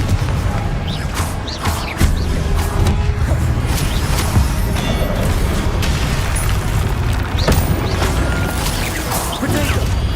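Spell-combat bursts and booms from the Hogwarts Legacy video game, a dense loud barrage of repeated blasts and crashes over a continuous rumbling bed, with voices calling out spells throughout.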